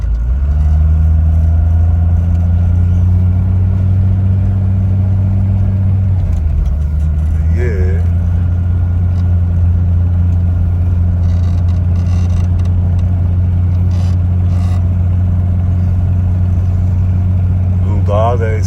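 A Toyota HJ61 drives the Karakoram Highway between Passu and Jaglot, its engine a loud, steady drone with constant road rumble throughout.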